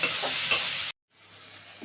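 Red amaranth greens frying in a pan with slit green chillies, turmeric and salt give a bright, close sizzle with a stirring scrape. It cuts off abruptly, then a fainter, duller sizzle returns.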